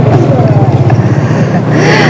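Motorbike carrying a family through an Indonesian neighbourhood on a morning breakfast run, its engine droning steadily up close with road and wind noise throughout.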